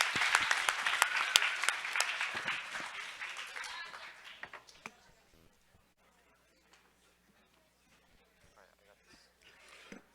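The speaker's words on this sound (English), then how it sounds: "Can we get a big round of applause for Krios?" A university startup demo day audience breaks into loud applause that thins out and fades over several seconds, leaving near quiet with a few scattered sounds at the end.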